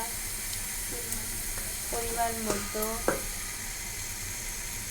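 Pieces of hilsa fish fry in hot oil as spice powder, including turmeric, is added, making a soft, steady sizzle with a few brief clinks, while someone speaks over it.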